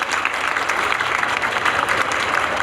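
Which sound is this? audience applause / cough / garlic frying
audience applause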